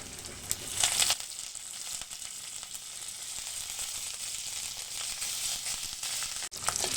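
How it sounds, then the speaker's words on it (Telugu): Dried red chilies and curry leaves fry in hot oil with crushed raw garlic, a steady bright sizzle that flares loudly at first, then settles into an even crackle with a brief dip near the end. "ఇప్పుడు ఎండమిరపకాయలు వేసుకుందాం కరివేపాకు"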